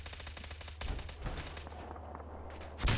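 Rapid bursts of gunfire from the video game Fallout 4 crackle in quick succession, then fall quieter and return as a final loud burst at the end.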